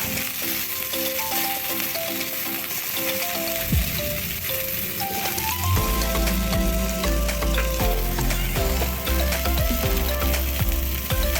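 Fish sizzles steadily in a frying pan, a dense continuous crackle with occasional sharper pops, heard close up alongside faint tonal background music and no talking.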